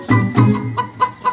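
Chickens at a village fair ring-toss stall, clucking in several short bursts close by, with no talk over them.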